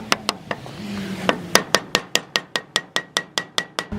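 Condor bushings being tapped into a BMW E36 differential: sharp metallic hammer taps, a few spaced out at first, then a steady run of about a dozen even strikes, close and clear.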